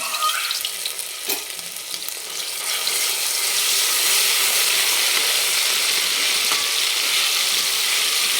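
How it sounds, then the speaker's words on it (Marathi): Ginger, garlic and coriander paste dropped into hot tempering oil for a mutton rassa, a bright hiss that swells after a few seconds into a loud, steady, close sizzle, with no talk. "आता हे थोडंसं आलं लसणं आणि कोथिंबीरची थोडीशी पेस्ट ठेवली होती ती टाकून घेऊ आपण"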